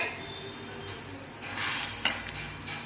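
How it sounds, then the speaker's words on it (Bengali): Fried fish goes into an okra curry in a pan, giving a steady sizzle with stirring scrapes and a sharp clink of utensil on metal partway through, close and without voices. "চাপা দিবার আগে বাদাম মাছ ভাজাগুলো আমি দিয়ে দিচ্ছি"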